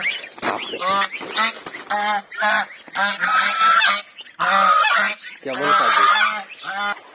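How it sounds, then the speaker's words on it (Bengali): Chinese geese honk repeatedly and loudly close by, in rapid overlapping bursts with brief gaps, while a person speaks a few words between the calls. "তো এই যে সব চীনা হাঁসগুলা"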